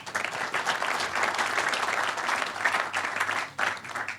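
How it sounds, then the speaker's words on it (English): An audience at a groundbreaking press conference for the BLVD Marriott in Lancaster bursts into steady, dense applause. The clapping is close and full, holding for several seconds with a slight swell near the end. "A little hand of applause for Chris"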